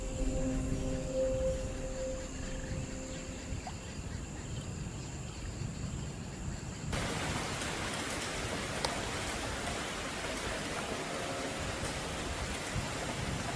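Rain falls steadily across the savannah at the start of the wet season, a broad, even hiss of drops that grows denser and louder halfway through and continues with no voices.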